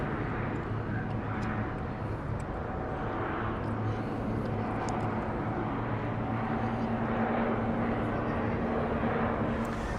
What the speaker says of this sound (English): Airplane's taking off